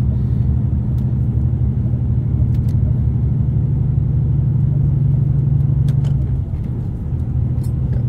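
A loaded truck's engine labours uphill on a Norwegian mountain road, a steady loud low drone from start to finish that eases slightly near the end.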